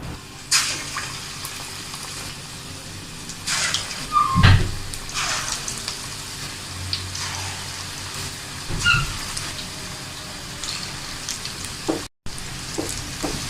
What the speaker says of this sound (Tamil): எண்ணெய் சூடாயிருச்சு. நம்ம பிசைஞ்சு வச்சிருக்கிற வெங்காய போண்டா மாவை சேர்த்துடலாம்.